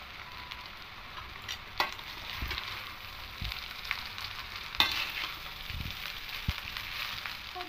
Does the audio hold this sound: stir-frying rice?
yes